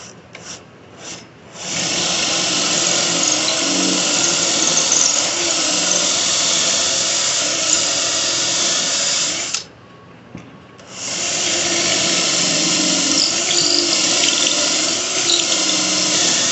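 A drill bores pocket holes into wood through a Kreg jig, giving a loud, steady grinding whir that runs for several seconds, stops briefly, then starts again for a second hole.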